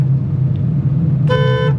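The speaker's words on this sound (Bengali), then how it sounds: "হর্ন দিয়ে অ্যালার্ট করবেন মাঝে মাঝে এইসব লোকদের" A car horn honks once, loud and close, with a clear harmonic tone, over the steady low rumble of the car being driven through a crowded road.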